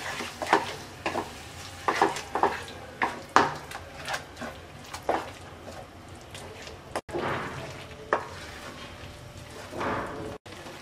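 Wood apple pickle mixed with date jaggery is stirred in a pan, a series of rhythmic wet scraping and slapping strokes at close range, moderately quiet, over a low simmering hiss.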